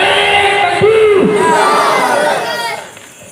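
A large crowd at a 12 Rabi ul Awwal religious gathering in Sitapur roars a loud unison response to the Nara-e-Takbir call. The shout swells at once, holds for about two and a half seconds, then fades away.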